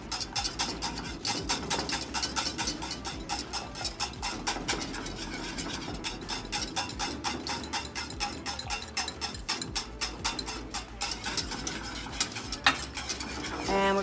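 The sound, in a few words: whisking a thickening white sauce over low flame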